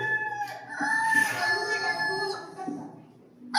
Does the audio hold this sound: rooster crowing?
yes